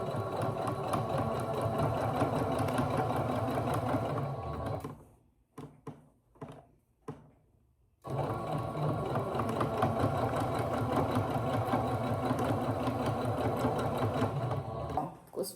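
A sewing machine stitches a pocket onto old denim in a steady, close mechanical whir. It stops for a few seconds with brief clicks and handling noises, then runs again to the end.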